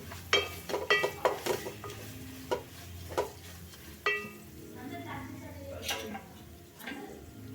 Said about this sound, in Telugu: ఒక స్పూన్ పసుపు వేసుకో ఇలా వేసుకొని ఇలా కలుపుకోండి